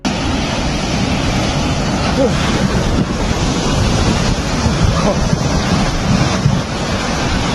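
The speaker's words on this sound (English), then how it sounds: "Ever heard of a flash flood?" Rushing floodwater of a flash flood, a loud steady broadband roar with wind buffeting the microphone throughout, no clear pauses.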